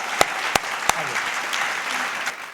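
An audience at a Hindi poetry recital breaks into a steady wash of applause, with a few sharper individual claps standing out near the start.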